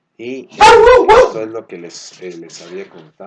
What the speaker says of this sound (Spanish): perdón por mi perro